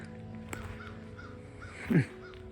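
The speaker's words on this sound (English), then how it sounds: "the crows and the ravens." A single crow caw rings out near the end, fairly close, over a steady outdoor background hum with a faint click early on.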